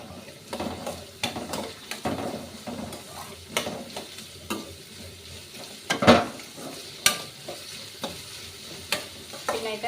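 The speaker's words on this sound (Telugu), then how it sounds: "ఆనియన్స్, క్యాప్సికమ్ ఇవైతే మనం వేసి ఫ్రై చేసుకోవాలి" Onions and capsicum sizzle in a pan with ginger, garlic and green chili for restaurant-style chilli chicken, steady frying hiss broken by repeated sharp scrapes and clinks of a stirring spoon against the metal.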